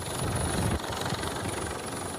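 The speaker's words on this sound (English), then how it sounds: "An Icelandic Coast Guard helicopter braving blackened skies to capture these extraordinary scenes" An Icelandic Coast Guard helicopter flying under blackened skies over a lava-spewing volcanic fissure in southwest Iceland, giving a steady, loud rotor and engine drone throughout.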